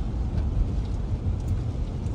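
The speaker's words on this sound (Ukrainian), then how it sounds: "дивіться, який нас сьогодні дощик зустрічає" Heavy rain at a beach resort, a dense, even roar of downpour with a low rumbling undertone, steady and close with no talking.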